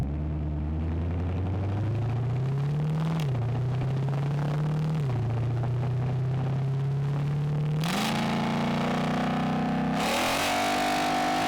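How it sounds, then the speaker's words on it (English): Mitsubishi Lancer, said to make roughly 600 wheel horsepower, revving hard at a roll race, the loud engine climbing through several gear shifts with brief dips before surging higher, continuous and close, no talking. "So we have what I believe is a Mitsubishi Lancer."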